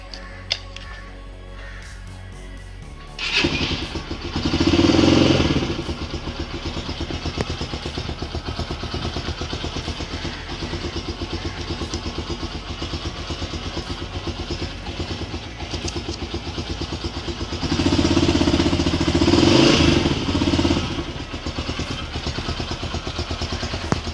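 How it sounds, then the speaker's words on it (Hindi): A 2019 Yamaha YBR125G motorcycle, fully modified, starts up and settles into a steady, clattering idle. The engine is blipped louder twice, then drops back to the even idle chug. It is close by and there is no talk. "ये बाइक आपको स्टार्ट करके चेक करवाते हैं।"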